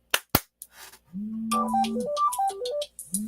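Two sharp hand claps, then a short electronic melody with a low buzzing tone plays from a phone speaker as a clap-triggered phone finder responds.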